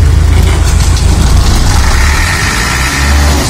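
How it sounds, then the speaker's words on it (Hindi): A tractor engine runs steadily at idle after starting, a loud, continuous low rumble with a constant diesel-like throb throughout, no talk over it. "स्टार्ट हो गया ट्रैक्टर"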